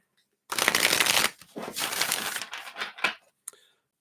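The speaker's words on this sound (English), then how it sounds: "Shuffle these up." A deck of reading cards shuffled by hand, one long riffling burst followed by several shorter shuffles and a final soft tap, close and dry with no voice over it.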